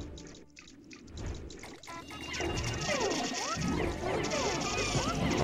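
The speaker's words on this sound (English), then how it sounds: "Enough toying around in the water, enough splashing around" Pikmin splash around in water in the Pikmin video game, a busy stream of small splashes and sloshing under game music, steady and fairly loud.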